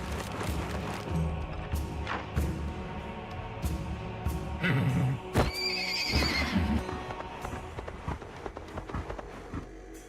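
Poppy, a horse in the video game Wartales, lets out a clear whinny partway through, set against steady hoof clip-clop and busy battle noise.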